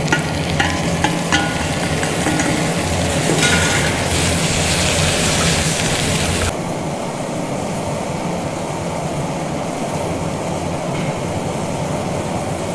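Tomatoes go into salted eggs in a hot pan and are stirred, giving a loud, steady sizzle with scraping over a constant low roar, which drops noticeably about halfway through.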